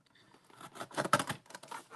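Scissors snipping through adhesive-backed craft paper, trimming off white edges in a Christmas-in-July crafting session: a quick run of close, crisp cuts with papery rustle, rising to a louder cluster mid-way, with no talk.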